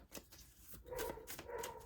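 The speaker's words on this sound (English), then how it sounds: "I'm really sorry if you can hear the dog barking." Faint dog barks and yips sound in the distance, a few short woofs rising over quiet room tone.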